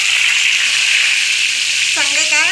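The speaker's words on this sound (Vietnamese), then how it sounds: "Cái này mình chiên sơ thôi cho nó" Sea bass pieces frying lightly in hot oil with garlic give a steady broadband sizzle throughout, and a voice begins talking near the end over the frying.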